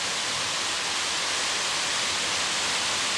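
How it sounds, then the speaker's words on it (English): A waterfall in Tahiti pours in a dense, continuous hiss of rushing water, loud and close, steady throughout with no other sounds. "Here's the beautiful waterfall that we were promised, and it is very, very beautiful."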